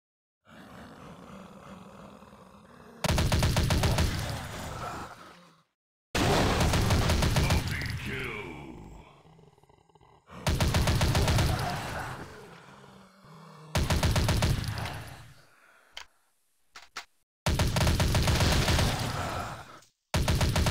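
Automatic gunfire mowing down zombies in the mobile shooter Dead Target, loud sustained bursts of several seconds each, separated by pauses filled with zombie growls and game effects.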